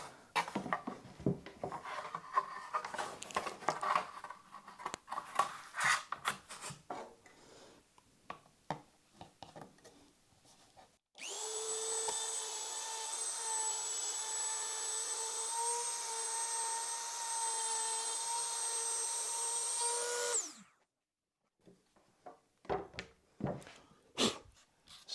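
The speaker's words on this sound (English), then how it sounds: "Back to my maple for the last cut on there." A machine cuts a piece of maple for an acoustic guitar rosette. Scraping and handling noises come first, then a loud steady whine runs for about ten seconds, stops abruptly and is followed by a few knocks.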